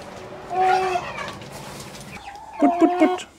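Small backyard chickens, including young chicks, clucking and peeping in short bursts close by, with a louder cluster of harmonic calls near the end and a low murmur in the background.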